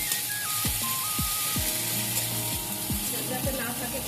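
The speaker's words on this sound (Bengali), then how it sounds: "একটু নেড়ে চেড়ে নেব।" Turmeric and ginger fry with a steady, close sizzle in a pan while a spatula scrapes through them in several distinct strokes, with a faint tonal hum underneath.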